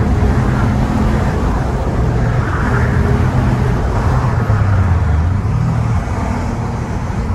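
Alfa Romeo 147 GTA with a naturally aspirated V6 engine, a loud steady drone heard from inside the car as it drives, with the pitch rising and falling slightly and no talking.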